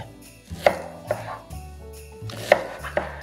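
A knife chops onion finely on a board in a home kitchen: a few sharp, close knocks spaced unevenly, each with a short ringing tail, over quiet background.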